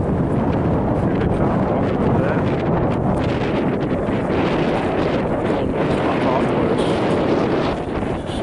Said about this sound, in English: Don't know if you can hear us for the wind.